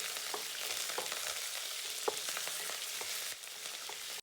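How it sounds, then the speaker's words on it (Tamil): Spices and curry leaves crackle and sizzle steadily in hot oil, a dense, close frying hiss with scattered sharp pops throughout. "எல்லாத்தையும் சேர்த்து எண்ணெயில் நல்லா வறுத்துக்கிறோம்"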